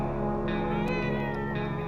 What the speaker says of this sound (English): the cat does ask for food sometimes